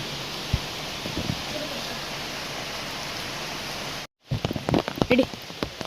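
Rain falls at Yana in a steady wash, close and even, then after a brief cut comes back with patters and rustles as people talk nearby.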